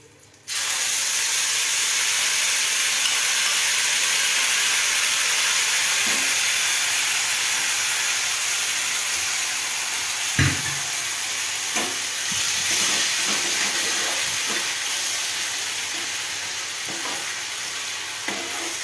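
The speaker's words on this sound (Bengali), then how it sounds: "এই তেলের মধ্যে আমি টমেটো বাটা, কাঁচা লঙ্কা বাটা আর আদা বাটা পেস্টটা দিয়ে দেবো।" Tomato, green chilli and ginger paste hits hot oil with a sudden loud sizzle that hisses on steadily, broken by a few clacks from stirring.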